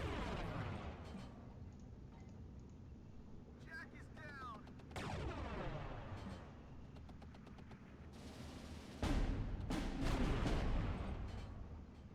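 Cannon and artillery fire in the WWII strategy game Steel Division 2, with repeated sharp booms and rattling gunfire bursts spread across the battle, some nearer and louder, under a steady bed of background noise.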